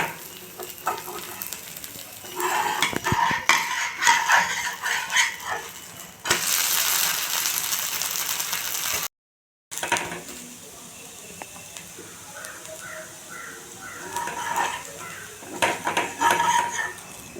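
A wheat dosa cooks on a hot pan with steady sizzling and frying, punctuated by scraping and clinks of a spatula as it is flipped, close up, with a brief silent gap and a dog barking faintly.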